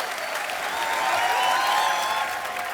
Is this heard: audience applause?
yes